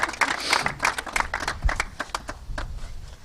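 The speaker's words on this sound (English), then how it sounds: "I would clap if I were y'all" Scattered hand claps from a small group of wedding guests at a live virtual ceremony, a dozen or so uneven, fairly close slaps spread over a few seconds with no talking.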